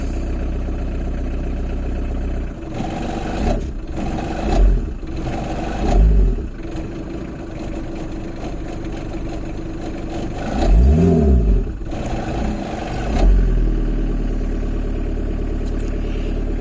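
A van engine idling at a low idle speed, running at a steady close-range rumble with several brief revs that swell and drop back.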